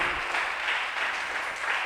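A church congregation applauds during a Bible study, a steady, even wash of clapping held at a fairly soft, distant level throughout.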